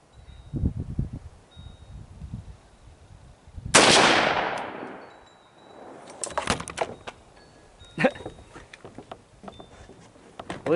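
A gunshot fired at a steel brake rotor outdoors: one loud, sharp blast with a long fading tail, surrounded by rustling, clattering and handling noises.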